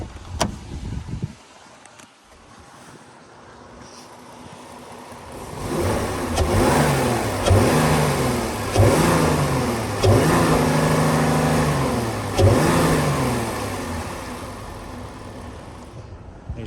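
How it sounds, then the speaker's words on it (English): The engine of a 2018 Jeep Grand Cherokee Overland 4X4 idles, then revs repeatedly to high RPM in rising and falling surges near the rev limiter, loud and close, with no talking. "I still like to rev it up as much as I can so you can hear it at a higher RPM."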